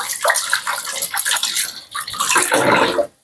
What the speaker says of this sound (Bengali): আমি চামচগুলো ধুয়ে নিয়ে যাই।